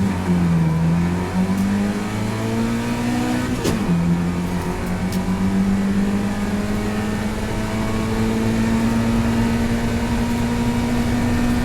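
Race cars on a track, a loud, close engine drone that holds steady, dips briefly around a gear change, then climbs slowly in pitch, with no talking.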